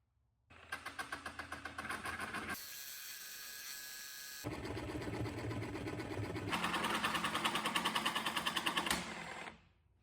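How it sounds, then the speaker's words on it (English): A jigsaw cuts sheet metal in a workshop, a rapid buzzing chatter of the blade that speeds up and slows down, with a brief harsh screeching stretch, loud and close before stopping. "I started out running the jigsaw fairly slow because I didn't want to burn up my blade"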